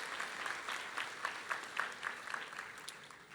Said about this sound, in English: Let's have a round of applause for our special guests.